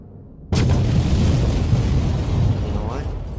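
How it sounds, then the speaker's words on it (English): Dynamite stick set off by a detonator in the video game Black Mirror 2 erupts suddenly into a loud, sustained blast that rumbles on for several seconds, with a voice briefly audible near the end. "The wire's connected to the stick of dynamite in the detonator. Everything's ready for the explosion."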